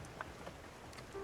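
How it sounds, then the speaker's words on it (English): Soft, steady rain hiss from the video game Spiritfarer, a faint and even wash of falling drops with no voices over it. "Oh, this rain. Will it ever stop?"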